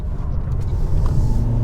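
A 2023/2024 Toyota Prius Hybrid Limited takes corners, heard as a steady low road and engine rumble that grows slightly louder toward the end, with no speech.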